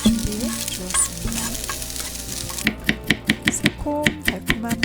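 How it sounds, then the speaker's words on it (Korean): Thin slices of square vegan ham fry in a lightly oiled pan, a steady close sizzle that gives way to a run of sharp, rhythmic scraping and tapping strokes from stirring, with no talking. "네모난 비건 햄도 얇게 잘라서 프라이팬에 기름 조금 두르고 구워서"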